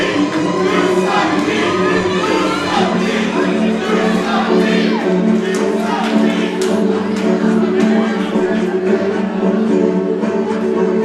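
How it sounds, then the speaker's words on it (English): Wrestling crowd at a UCW-ZERO event voicing its feelings toward Mr. D, a loud sustained roar of many voices with shouts rising and falling throughout. "And now the crowd letting Mr. D know what they think of him."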